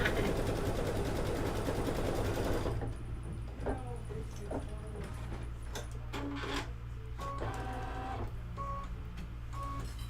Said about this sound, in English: while it's stitching this out